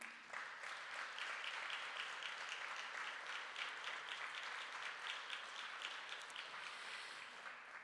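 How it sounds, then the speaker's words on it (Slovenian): Applause from an anniversary gala audience welcoming honoured guests and sponsors rolls on as a steady, dense wash of many hands clapping, sustained and even before easing slightly at the end. "res en velik aplavz za Čongorja in pa Ildiko Rakoci"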